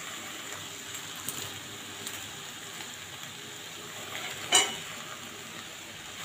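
Spinach going into a wok with fried vegetables, a faint, low hiss of frying with a couple of light spatula scrapes and one louder clank near the end.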